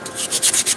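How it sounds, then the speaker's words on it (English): Coarse 80 grit sandpaper rubbing around a turned pen blank, close and loud, in quick repeated rasping strokes with no talk. "we put all these sanding marks in it, going this way around the blank, and it's 80 grit"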